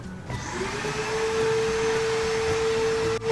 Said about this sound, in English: And now my mom starts to vacuum.